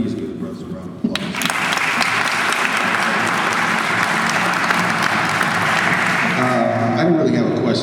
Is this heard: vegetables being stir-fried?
no